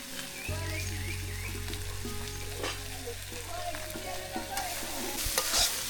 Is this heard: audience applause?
no